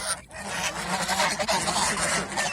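Geese on a goose farm honk loudly and close while mating, a run of overlapping nasal calls that continues without pause.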